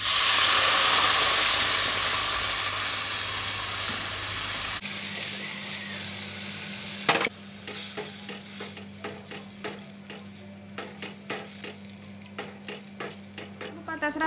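A sauce mixture is poured into a hot frying pan and starts sizzling, first a loud steady hiss, then after a sudden cut a quieter crackle with scattered clinks of a spoon stirring, close up.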